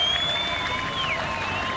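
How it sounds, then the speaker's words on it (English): Cricket players and Dutch fans applaud at the ground during the 2003 World Cup match between India and the Netherlands. The steady, distant crowd clapping runs throughout beneath a thin tonal whine. "Warm applause from his fellow players"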